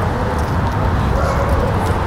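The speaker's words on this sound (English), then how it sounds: "See the dog behind us?" A dog barks and yips repeatedly at a ranch dog-training session, the noisy bursts steady throughout against a loud, dense background.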